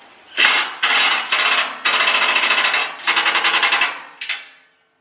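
Pneumatic impact wrench hammering at tight skid plate bolts on a 2020 Toyota Tacoma TRD Off-Road, loud and close, in several sharp rattling bursts of about a second each with brief pauses between them.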